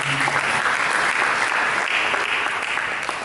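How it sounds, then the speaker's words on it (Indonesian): A church congregation breaks into dense, sustained applause during a sermon, steady and loud throughout with no talk on top. "Mari kita berikan tepuk tangan"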